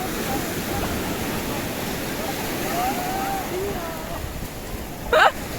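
Sea waves at Arkmane beach in Morocco, a broad steady wash of surf noise with wind, a faint voice briefly audible and a short sharp sound near the end.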